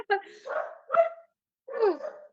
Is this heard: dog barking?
yes